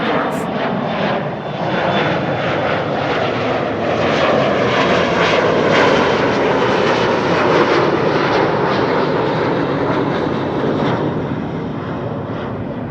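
Roaring jet engines of an airliner at Amsterdam Schiphol Airport rise and swell into a loud, broad rumble and hiss that fills the whole stretch, steady and close.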